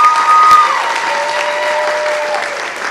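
A pageant audience applauds and cheers for a contestant, steady clapping filling the room for about three seconds with a few whistles and shouts rising above it.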